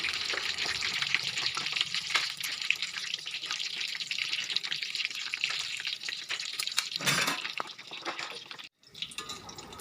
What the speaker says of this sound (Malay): Kita goreng tahu sumbat goreng ni sehingga warna keemasan